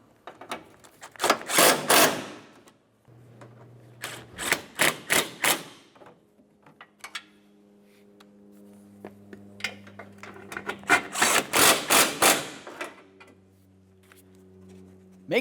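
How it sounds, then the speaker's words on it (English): Bumper bracket mounting bolts being snugged on a 2006-2011 Honda Civic, with several rapid bursts of close ratcheting clicks separated by short pauses and quiet gaps. "Now that we have all 3 of our mounting bolts started, snug them up."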